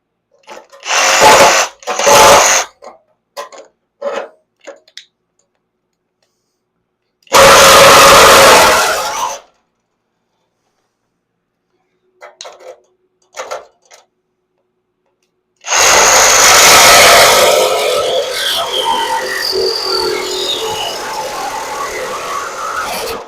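Sawzall reciprocating saw cutting through the frame of a 1970 Triumph TR6 during trailing arm section removal, in several loud bursts separated by pauses, ending in a longer sustained cut.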